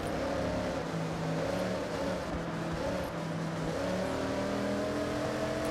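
A car engine revving in a video game, a continuous droning roar with rising and falling pitch as it accelerates, loud and steady throughout with no talk.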